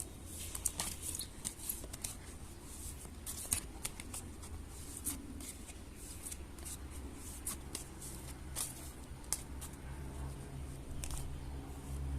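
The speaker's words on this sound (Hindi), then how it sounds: "मैं यहाँ पे शफल कर रही हूँ।" Tarot cards are shuffled by hand nearby in a quiet room, producing repeated soft riffling flicks and taps in irregular bursts against a faint low hum.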